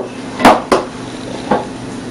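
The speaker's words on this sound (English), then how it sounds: "I'm going to go ahead and break my eggs into my prep bowl" Eggs cracked against a prep bowl, three distinct sharp taps spaced apart, close and fairly loud.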